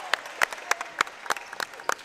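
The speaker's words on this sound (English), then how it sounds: "Give them a nice applause." Applause from the crowd at a high school boys basketball game, a thin scattering of distinct claps at moderate distance, fairly quiet in the gym.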